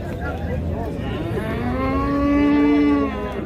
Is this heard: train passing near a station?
no